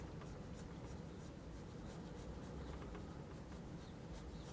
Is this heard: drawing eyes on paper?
yes